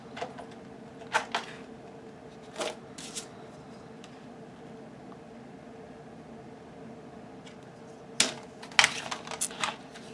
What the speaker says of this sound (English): grab some of your cardstock and let's cut it at